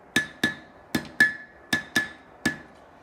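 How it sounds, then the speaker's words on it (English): A small hammer strikes forged metal seven times in an irregular rhythm while a cross is straightened, each blow a sharp close ringing clank that decays quickly, with no voices. "When you're straightening it, I'd suggest using a smaller hammer."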